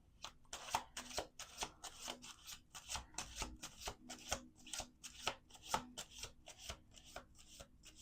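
Tarot cards being shuffled by hand, a fast run of crisp riffling flicks in a steady rhythm, close and quiet, with no talking.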